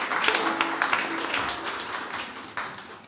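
Live radio studio audience applauding a string band from an Appalachian strings program, dense continuous clapping of a modest crowd, steady and fairly close, with a few louder individual claps.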